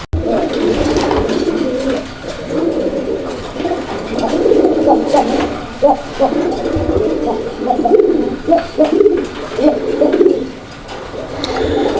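A pair of colouring Raj-golla pigeons cooing close by, repeated soft throaty coos in an irregular rhythm throughout, moderately loud and alone.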